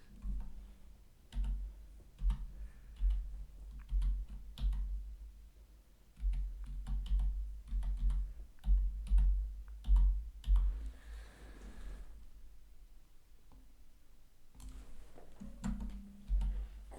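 Someone types a blog name on a computer keyboard: quiet, close clicks come in uneven bursts with short pauses between them.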